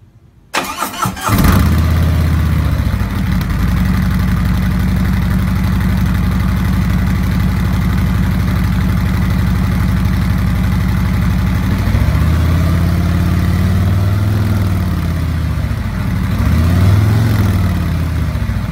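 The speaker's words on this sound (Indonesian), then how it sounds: "ada saya punya videonya nih, knalpot Harley nih." A Harley-Davidson motorcycle engine cranks and fires after a brief silence, then settles into a loud, steady, close exhaust idle with a low thumping rumble, briefly swelling twice near the end as the throttle is blipped.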